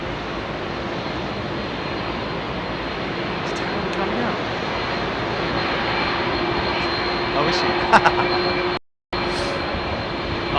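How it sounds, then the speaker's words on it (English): Air Algiers Airbus A330-200 with CF6 engines arriving on runway 27R at London Heathrow, a loud, steady jet roar with a whining tone that builds slightly, while people talk briefly nearby. "Oh, listen to these beautiful engines, man."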